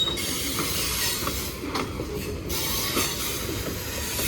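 A Norfolk Southern freight train of hoppers and boxcars rolls past nearby, a steady rumble of wheels on rail with faint clicks and squeals, continuous throughout.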